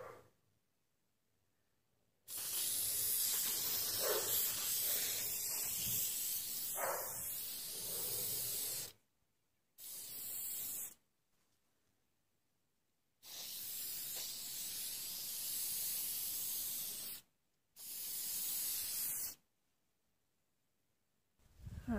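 An aerosol can sprays varnish onto a painting in several long hissing bursts, close and steady, separated by short silent gaps, with a brief final spurt at the end.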